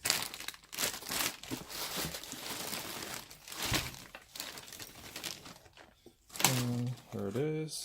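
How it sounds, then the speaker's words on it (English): Plastic bag crinkling and rustling while a pair of Yeezy Season 6 thick desert boots is unpacked, close and continuous with sharp crackles, and a voice speaking briefly near the end. "That comes in a plastic bag."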